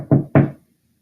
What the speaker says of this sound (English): The moment you hear knocking, you get the sound